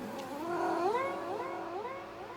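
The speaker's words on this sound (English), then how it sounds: "this is my cat when I got home from the recording" A house cat gives a single drawn-out, wavering meow that rises and falls like a siren, close and fairly quiet, with no other sounds around it.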